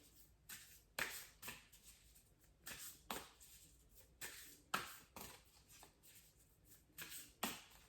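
Repeated crisp riffling bursts of a deck of oracle cards being shuffled, about a dozen quick flurries in an uneven rhythm, close and fairly quiet with no talking.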